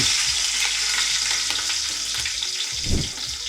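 Cumin seeds frying in a generous pour of hot oil for a fish dish, a steady dense sizzle with crackling throughout and a brief louder flare near the end, close and continuous with no talk.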